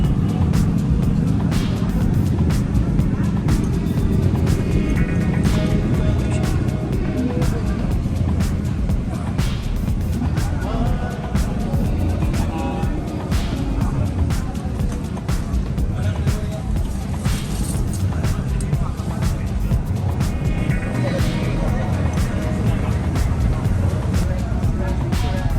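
A BMW GS motorcycle engine rumbles steadily at a motorcycle club's first-anniversary gathering during a tuna festival, blended into a dense, loud wash of crowd noise and chatter that persists throughout.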